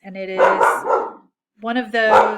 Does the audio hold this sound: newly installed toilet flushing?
no